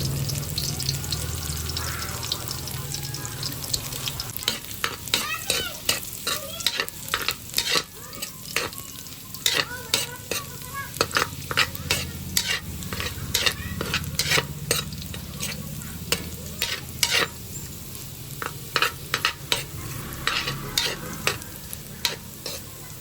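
Garlic sautéing in a pan, a steady close sizzle under a rapid, continuous series of sharp metallic spatula scrapes and stirs, busy and loud throughout with no voices.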